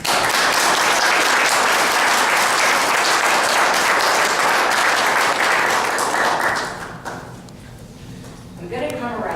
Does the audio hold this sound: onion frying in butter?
no